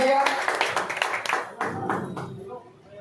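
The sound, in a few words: audience clapping to welcome guest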